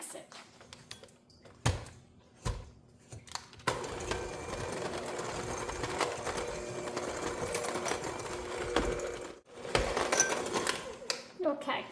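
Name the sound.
electric mixer mixing sugar for pumpkin cookie dough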